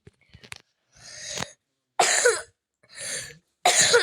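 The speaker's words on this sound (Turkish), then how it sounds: "Biraz hastayım özür dilerim. Azıcık öksürüyorum." Several harsh coughs in separate bursts, close and loud, with short silences between them and no talking.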